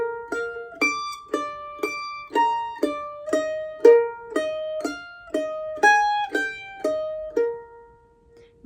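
A mandolin picks out a measure of a song: a quick run of about fourteen bright, plucked notes with sharp attacks and short decays, played close and clear with no talking.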